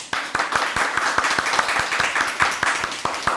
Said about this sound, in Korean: 우리 박수 다 함께 한번 칩시다.